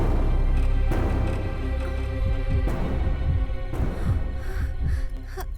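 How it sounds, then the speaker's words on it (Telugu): A dramatized heartbeat from a Telugu comedy film scene, with steady, rhythmic low thumps repeating through the clip, loud and close over a humming backdrop. "హార్ట్ బీటే వినిపిస్తోంది"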